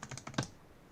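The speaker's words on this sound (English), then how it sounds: "look what I'm typing into my calculator" Five quick plastic key presses on a calculator keypad during an Algebra 2 lesson, a rapid close tapping run with the final press loudest, then quiet.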